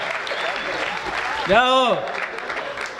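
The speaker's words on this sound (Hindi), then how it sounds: "थोड़ा तालियों का और उत्सव करिए" An audience at a Hindi comedy poetry recital (hasya kavi sammelan) claps steadily. A single voice briefly calls out over the applause.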